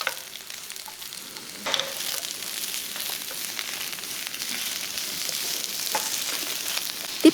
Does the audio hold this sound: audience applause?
no